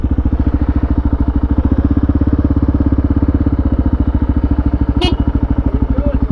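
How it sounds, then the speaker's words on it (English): A Kawasaki Ninja 650 motorcycle, a 2020 model, with its engine pulsing in a steady, rapid, close and loud rhythm at idle or low revs, broken only by a brief click near the end. "So Scott is riding a Ninja 650"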